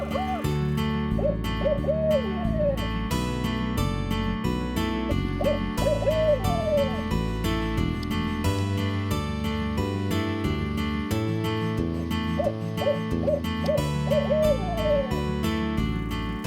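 Large owls give repeated hooting calls, short sets of pitched hoots returning every few seconds over a steady bed of music that fills the background.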